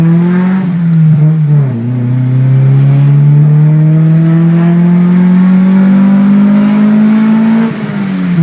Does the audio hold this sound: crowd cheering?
no